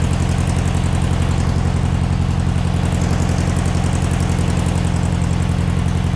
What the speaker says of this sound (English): Gotta love an air-cooled Volkswagen engine, haven't you?